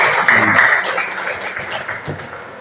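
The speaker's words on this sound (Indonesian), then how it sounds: "Nah, tepuk tangan untuk temannya." Classroom applause for a classmate, a steady mid-level patter of many hands clapping together that tapers off slightly toward the end, with no talk over it.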